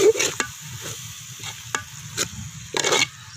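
Onions, tomatoes and ginger-garlic paste frying in a pan for quail gravy, stirred with a spoon: a low steady sizzle under several sharp scraping strokes at an uneven pace, close by.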